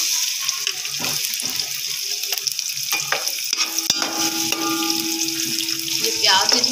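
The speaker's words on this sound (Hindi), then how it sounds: "ये उतनी देर प्याज फ्राई होगा" Onions frying in about a quarter kilo of oil in a preheated cooking pot for matar pulao, a dense close sizzle with spatula clinks and stirring knocks and a faint hum in the background.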